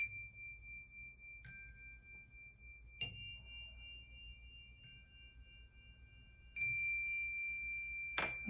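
Chimes ring out clearly in a quiet room, with several single bright metallic strikes spaced a second or more apart, each leaving a long sustained shimmering tone that fades slowly. No one speaks.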